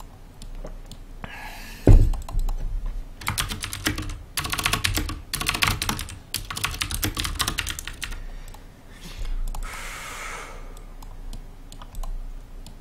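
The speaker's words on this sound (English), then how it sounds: "So I am kind of apologetic for that keyboard noise." Rapid clattering of computer keyboard typing in several bursts, close and loud, with brief pauses between runs of keystrokes.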